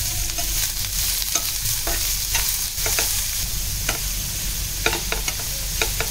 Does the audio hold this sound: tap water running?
no